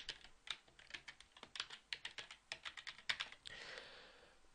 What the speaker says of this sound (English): Now I enter my user ID and password again